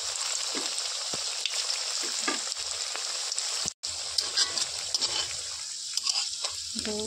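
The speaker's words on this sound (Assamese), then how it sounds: "এনেকৈ তেলটো গৰম হৈ গৈছে। এতিয়া মই কচুৰিটো বহাই দিছোঁ।" Potato kachori frying in hot oil: steady close sizzling and bubbling throughout, with occasional crackles and a brief dropout midway.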